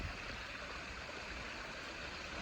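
Small trickling waterfall inside a cold tunnel, a soft, steady wash of splashing water with a faint low rumble underneath, constant and fairly quiet, no voices.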